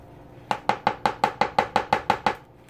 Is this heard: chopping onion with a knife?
yes